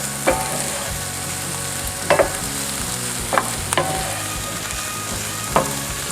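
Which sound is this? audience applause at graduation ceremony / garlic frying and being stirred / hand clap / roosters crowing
garlic frying and being stirred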